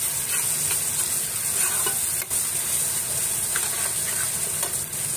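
Spicy Maggi noodles with chili powder, turmeric powder and green chilies sizzle and fry steadily in a pan, a loud continuous hiss with faint stirring scrapes throughout.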